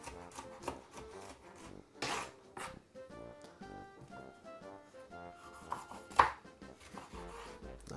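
Knife chopping vegetables on a board for a Jamaican saltfish dish, quick repeated taps in an uneven rhythm under background music, fairly quiet with one sharper knock.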